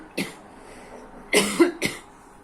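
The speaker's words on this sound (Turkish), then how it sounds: "Daha açmaya başlarken öksürükler de başlıyor." Three harsh coughs from one person, spaced across a couple of seconds, the last two coming close together, close and fairly clear against a quiet room.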